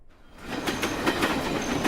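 A train rolls past on the rails close by, its steady rumble broken by a regular clickety-clack of wheels over the rail joints for a couple of seconds.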